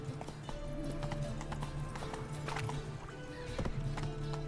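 Horse galloping in The Witcher 3 video game, rapid rhythmic hoofbeats pounding steadily under game music and ambient sound, with no talk.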